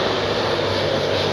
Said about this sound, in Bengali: একটা প্লেন আসতেছে, এটা দেখতে থাকেন।